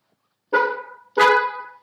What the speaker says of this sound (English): I know my horn relay was working because I heard the horn honk